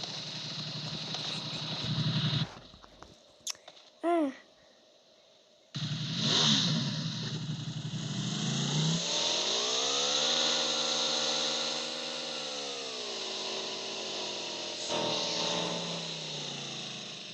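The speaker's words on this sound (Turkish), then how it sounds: "Birisi motoru aldı. Ben bineceğim" Motorcycle engine in the PUBG Mobile video game, a steady droning hum that rises and falls in pitch as it revs, with brief interruptions and a short gap early on, fairly loud and steady with no speech.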